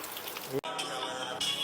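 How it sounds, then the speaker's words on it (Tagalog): Quiet rain patters steadily on a surface, a soft continuous hiss with a brief break partway through. "maaraw, tas umuulan."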